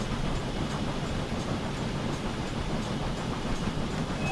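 Caledonia Works LNWR 380 Class steam locomotive running in a railway simulation game, a steady rumbling roll with faint rhythmic chuffing and rail noise, continuous and moderately loud.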